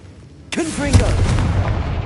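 A Confringo blast spell bursting in Hogwarts Legacy, one sudden loud explosive crack followed by a rumbling, crackling tail of debris, with a voice casting the spell over the start.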